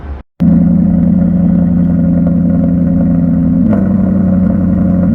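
Naturally aspirated 4.7-litre V8 of a Maserati MC Stradale holding a steady, loud, close engine note with a brief cut near the start, then a slight shift in pitch later on; no talking.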